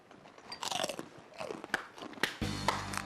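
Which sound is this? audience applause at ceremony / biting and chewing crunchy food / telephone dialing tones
biting and chewing crunchy food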